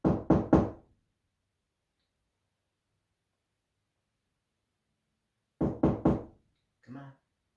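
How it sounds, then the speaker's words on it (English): Knocking answers a request for ghost knocks: two quick bursts of three sharp raps on a hard surface, separated by a long silence, with a fainter muffled thud after the second set. "Edna, can you knock again?"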